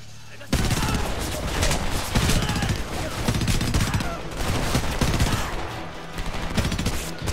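Gunfire from the video game Homefront comes in loud, rapid, near bursts of automatic shots that continue for about seven seconds, with a voice faintly underneath.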